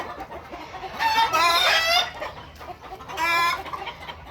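Sonali chickens on a layer farm, two bursts of clucking calls about two seconds apart, close by over low farm background noise.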